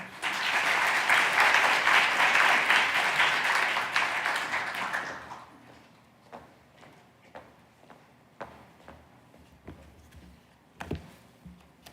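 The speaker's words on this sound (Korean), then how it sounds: "우리 환영의 의미로 박수로 맞이하겠습니다" A church congregation claps to welcome a guest missionary speaker, a dense, loud burst of applause lasting about five seconds before stopping abruptly, followed by scattered faint taps and small room noises.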